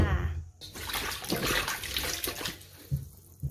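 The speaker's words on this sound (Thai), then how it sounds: "เริ่มจากล้างด้วยน้ำเกลือนะคะสักสองสาน้ำค่ะ" Chicken feet being washed in salt water, with water splashing and sloshing steadily in a basin or sink for a few seconds, close and fairly loud.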